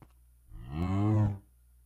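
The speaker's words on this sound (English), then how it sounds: "A freaking cow is in here." A cow in the Nintendo game moos once, a long, loud, close bellow that swells and fades after a short quiet start, with nothing else heard around it.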